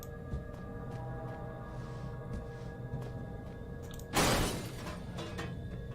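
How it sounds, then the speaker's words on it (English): A toolbox thrown in the horror video game Penumbra: Black Plague smashes with a single sudden crash amid a quiet hum of background ambience, sharp and close before fading. "I really love throwing those toolboxes and just having them..."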